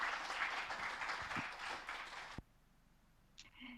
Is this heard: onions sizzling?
no